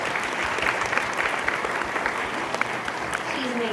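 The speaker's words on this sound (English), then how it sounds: "This set looks amazing, and a big round of applause for Linda Desmond, who created our set." Audience applause at a school production of Mary Poppins, a steady dense clapping from a full house that fills the room from start to finish, with a few voices faintly mixed in.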